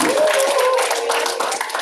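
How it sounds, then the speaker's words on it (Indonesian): Participants at an Indonesian civil-service training session applaud together, a short burst of dense clapping with a sustained tone running through it and faint voices mixed in. "Ya, tepuk tangan untuk kita semua."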